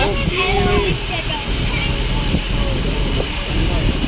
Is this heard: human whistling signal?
no